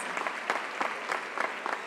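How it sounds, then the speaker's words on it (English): Applause from a school graduation audience, a moderate, fairly sparse patter of hands with distinct individual claps standing out, somewhat distant and steady across the short stretch. "Give yourself a huge round of applause."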